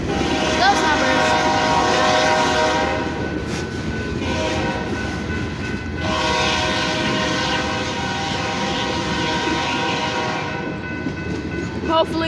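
BNSF mixed freight train with locomotives 5985, 3960 and 7180 passing close by, sounding its horn in long loud sustained blasts over steady rolling wheel and engine rumble, a voice briefly present.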